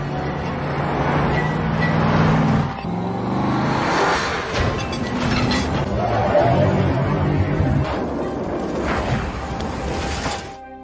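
Cars race in a film chase scene, engines roaring and whooshing past with rising and falling road noise, loud and continuous over the whole stretch.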